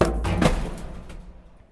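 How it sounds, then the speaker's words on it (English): A library book being returned: a few soft thumps and knocks in quick succession, close and fairly quiet, fading out over about a second. "here's the sound of me returning the book very lovingly"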